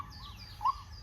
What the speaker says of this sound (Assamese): চৰাইৰ শব্দ